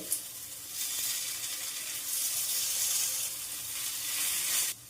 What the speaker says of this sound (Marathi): थोडं थोडंसं तेल वरच्या बाजूने सोडून घेऊ आपे हे पलटून दुसऱ्या बाजूने देखील आपल्याला व्यवस्थित भाजून घ्यायचे